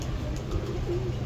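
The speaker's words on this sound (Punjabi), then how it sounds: "ਇਹ ਕਬੂਤਰ ਆ ਜੀ" A red-eyed jaldar pigeon coos nearby, a soft, low, steady cooing held for about a second over faint background noise.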